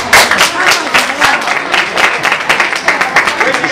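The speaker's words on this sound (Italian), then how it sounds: "e un applauso particolare alla mamma di Silvia per la preparazione." An indoor audience applauds at a celebration, a dense, loud clapping with an uneven patter that carries on without a break.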